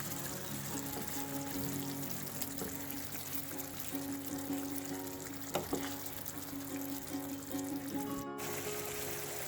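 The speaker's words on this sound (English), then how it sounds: "Now I'm going to add the coconut mixture" A coconut mixture poured into a pan of cooking prawns and moringa drumsticks for a Kerala theeyal, producing a continuous wet pouring and sizzling wash with soft trickles, ending in a brief sharp knock.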